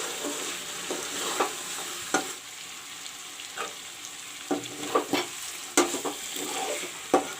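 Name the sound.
chicken frying with masala spices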